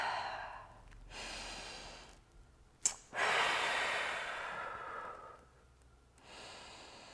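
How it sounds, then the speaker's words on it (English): Slow, deep breaths in and out during a yoga stretch, long airy inhales and exhales close to the mic with a brief sharp intake in the middle. "Big breath in and out."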